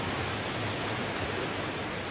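A cold river rushing past the Manikaran hot springs, a steady, even roar of flowing water without breaks.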